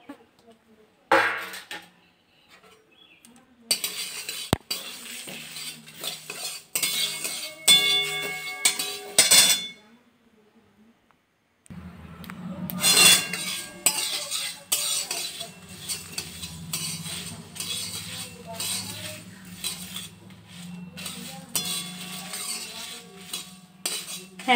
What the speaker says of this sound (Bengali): কড়াই গরম হতে দিয়ে দিয়েছি আর আমি একসাথে সব মিশিয়ে নিয়ে